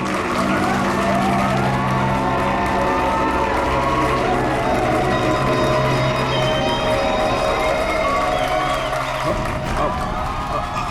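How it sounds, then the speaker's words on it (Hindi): An audience applauds and cheers at a staged show in a CID television episode, a dense, continuous wash of clapping and crowd noise that holds steady before dropping off near the end. "तालियां!"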